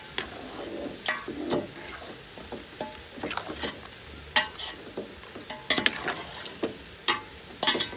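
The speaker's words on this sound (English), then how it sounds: "as we wait for the cabbage to get ready, I'm going to stir our meat" Meat stirred as it fries in a pot, a quiet sizzle broken by repeated sharp scraping and clattering of the spoon against the pot in irregular bursts, close by with no talk.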